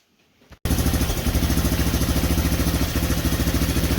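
A Big Red 200es engine starts up after a brief quiet moment and runs steadily at close range, its loud, pulsing idle uneven because the carburetor needs tuning.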